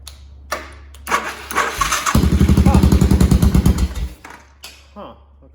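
A Suzuki Savage LS650 motorcycle with a no-crank fault whirs through a starter attempt, a loud rhythmic chugging for about two seconds that stops without catching, with a low hum beforehand and afterward.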